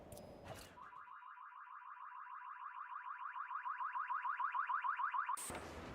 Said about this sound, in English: Somebody set off a car alarm?